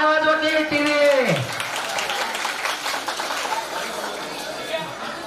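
Applause from an audience at a Navratri festival Paithani prize-giving game, starting under a man's speech and then continuing as a dense, moderately loud run of clapping mixed with crowd chatter.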